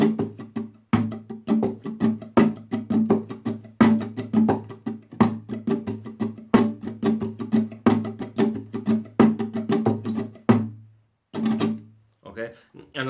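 Rumba flamenca on guitar: repeated strummed chords with percussive golpe taps on the body, played in a steady looping rhythm up close, with a short pause near the end before one more strum.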